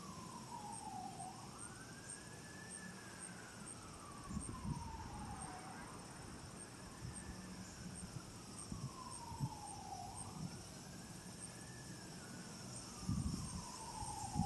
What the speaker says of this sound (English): There's also a siren going in the distance.